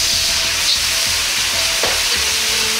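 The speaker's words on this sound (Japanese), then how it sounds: "鍋を軽く焼くようにして炒めます。" Constant loud sizzling from a hot wok as soy sauce, garlic and ginger are stir-fried for mapo eggplant, stirred and scraped around in steady strokes.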